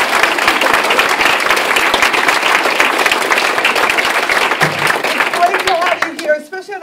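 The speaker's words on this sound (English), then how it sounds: "So can we give them a round of applause?" An audience at a community forum on state tax reform breaks into a sustained round of applause, loud and continuous for several seconds before tapering off, with a voice speaking briefly as it fades.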